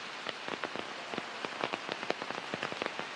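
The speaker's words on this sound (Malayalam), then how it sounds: "വലിയ രീതിയിലുള്ള ഒരു മഴ തന്നെ ഇപ്പോൾ ലഭിക്കുന്നുണ്ട്" Heavy rain falls hard on surfaces, a dense, steady patter of countless drops with sharper individual splashes scattered throughout, with no voices.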